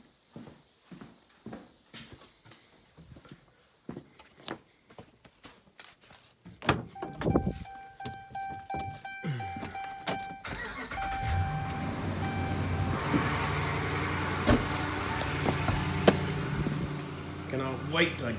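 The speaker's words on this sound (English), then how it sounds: "So we'll I better start this truck." A series of knocks, thunks and clatter leads up to a truck engine turning over and catching, which then keeps running as a steady, moderately loud hum alongside further clunks.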